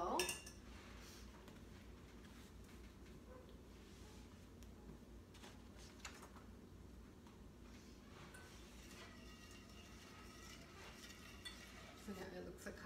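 A pot of melted fudge mixture stirred with a metal spoon, faint clinks and scrapes against the pot in a quiet kitchen, with a voice talking softly underneath.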